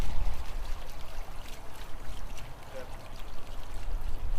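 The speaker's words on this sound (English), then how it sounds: "I can tell right now this water is hitting here and it's splashing out." A fountain's water plume splashes into its basin in a continuous, close, hissing wash of falling water that stays steady throughout.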